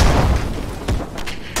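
In ArmA 3 squad training, a breaching charge detonates with a loud, close boom, followed by a few sharper bursts and pops over under two seconds.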